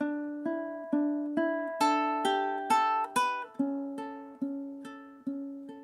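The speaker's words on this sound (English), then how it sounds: "One more time without the sustain." Ukulele passage played without sustain, each plucked note stopping short rather than ringing, in a steady, detached rhythm of about a dozen notes and chords, close and clear with no talking.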